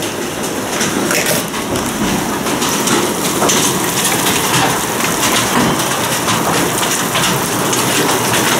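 Large hailstones, around 28 mm across, pound down during a storm in Yuzhnoukrainsk, making a dense, loud, unbroken clatter that continues for the whole stretch.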